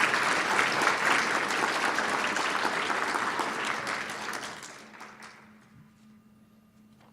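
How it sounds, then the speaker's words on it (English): An audience at a student awards night gives a big round of applause for an honoree, loud and dense at first, then fading out over the last couple of seconds into a quiet room. "give Marissa another big round of applause"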